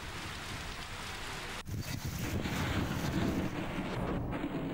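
Heavy rain during a thunderstorm in a Pakistani city pours down in a continuous, dense hiss, with wind buffeting the microphone and a brief dip before the downpour grows louder. No one speaks.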